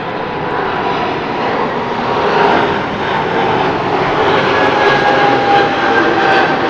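A Helvetic Airways jet departing London City Airport roars loud and steady, a broad engine rush that swells slightly and holds throughout with no talk.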